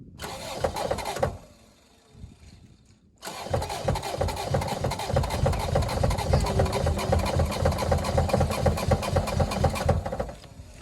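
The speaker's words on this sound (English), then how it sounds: "I was gassing it, but seems like it doesn't go as good when I gas it than when I don't" A 1989 Mercury Grand Marquis engine cranking and sputtering, going quiet briefly, then catching into a rough, uneven run with a loud, choppy misfiring beat close up.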